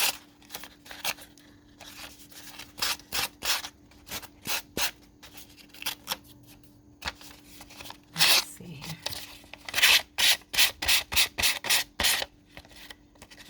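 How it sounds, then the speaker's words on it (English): A hand-held power buffer sander from Ace Hardware roughs the edges of journal cards and tags in short, harsh scraping bursts that stop and start, louder and quicker toward the end, with no talking. "I'm just using from Ace Hardware, a buffer, or a sander"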